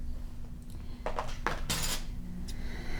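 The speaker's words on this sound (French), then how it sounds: "Ce qu'on va faire maintenant, c'est qu'on va couper le fil." Scissors snip through bulky knitting yarn while a ribbed 1x1 tuque is being finished, giving a few quiet, close crisp cuts over a low steady background hum.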